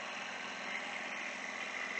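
A small Kubota three-cylinder diesel engine with a Zexel injection pump, idling with a steady, even drone, heard close and alone without talk.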